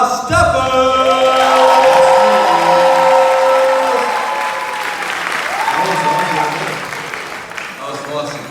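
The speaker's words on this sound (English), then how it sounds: "Give them another round of applause" An audience at an annual Alpha Beautillion gala applauds the steppers with sustained, loud clapping and a few whoops that slowly fade, while a voice speaks over the crowd.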